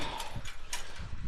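A ridden horse walks past bulls on a cattle ranch during calving season, its hooves landing in an uneven series of clip-clops at moderate distance.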